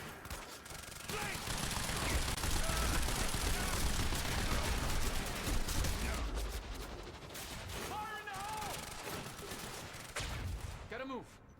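Rapid enemy gunfire in the shooter game Quantum Break, a dense, loud barrage of overlapping bursts that fills most of the stretch, easing off toward the end as short voice-like sounds break through.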